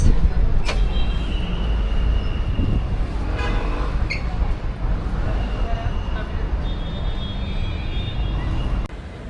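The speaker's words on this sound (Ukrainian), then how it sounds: "Ще й такий потяг тут стоїть." Train standing at Sirkeci station in Istanbul, a low rumbling idle with a couple of brief high tones, close and fairly loud under people talking throughout.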